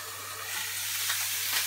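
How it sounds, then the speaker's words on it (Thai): Marinated meat frying over high heat in a pan with oil, a steady soft hiss of sizzling with brief crackling bursts, close and continuous, with no speech. "เนี่ยไม่ต้องทอดนานเลยค่ะ"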